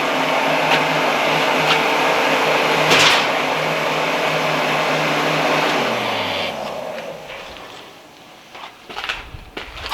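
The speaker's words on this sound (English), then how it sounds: "if you're going to do this over your forge, turn the blower off" A coal forge's blower roars as a steady broadband whoosh over a low hum, then winds down and cuts out after about six seconds, leaving a quieter stretch with a few faint clicks and knocks.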